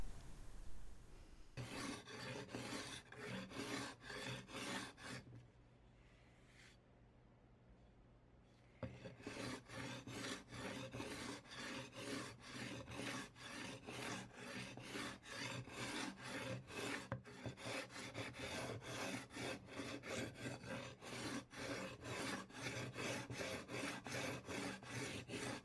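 Rhythmic back-and-forth rasping of hand sanding a carbon fiber knife blade, close and steady, with a short pause partway through before the strokes resume at an even pace.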